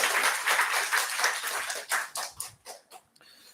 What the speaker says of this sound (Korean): 우리 하나님께 영광의 박수 다시 한번 돌리겠습니다